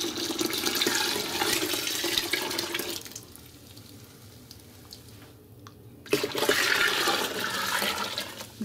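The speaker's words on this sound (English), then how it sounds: "So next, we're gonna add 3 liters of water to the almond puree." Water is poured into almond puree in a pan, a steady splashing gush that eases off midway, briefly stops, then surges back strongly, close and loud with no talking.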